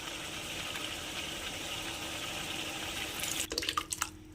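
Running water trickles steadily at low volume as it is poured into a cooking pan of ladyfinger gravy, followed by a brief cluster of splashes and clatter near the end.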